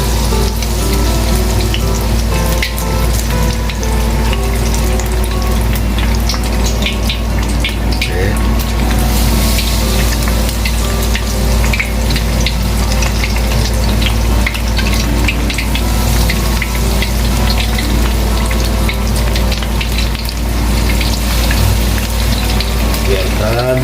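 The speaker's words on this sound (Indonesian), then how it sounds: "Oke, lanjut goreng." Stuffed Japanese tofu filled with vegetables deep-frying in hot oil, a dense, steady loud sizzle and crackle that runs continuously throughout, with faint voice under it.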